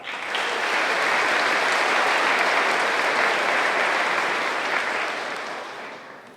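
A large audience claps for award winners at a high school graduation ceremony, broad sustained applause that swells early and fades gently near the end.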